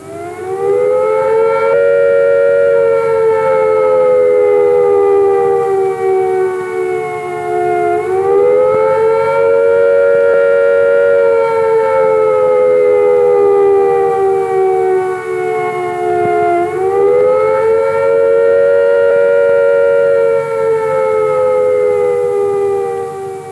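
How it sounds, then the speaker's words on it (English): A civil defence attack warning siren sounds loud and sustained, its tone sliding down and back up in slow cycles of about nine seconds, a rising and falling wail. "If an attack is expected, the sirens will sound a rising and falling note like this."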